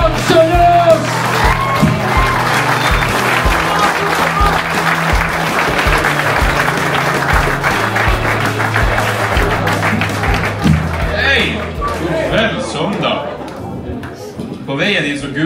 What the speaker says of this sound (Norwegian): Bare begynne å klappe og gi masse kjærlighet